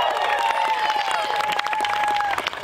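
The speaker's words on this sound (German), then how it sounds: "Das Publikum rastet aus." Audience at a school fairy-tale stage show bursts into loud, sustained cheering and applause, a dense roar of clapping with a whistle-like tone threading through, continuous for the whole stretch.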